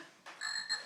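A toy frog gives a short electronic croak, close and fairly quiet, standing alone with no talking during a child's playtime.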